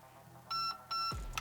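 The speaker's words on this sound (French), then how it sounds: "bip bip aigu" A Rossi Neptune SAS Gen 2 airsoft unit gives two short, high-pitched electronic beeps in quick succession, clear and close against a quiet background, followed by a soft thump.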